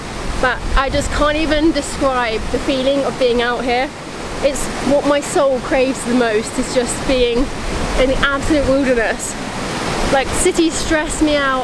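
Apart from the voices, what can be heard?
waterfall in Snowdonia, North Wales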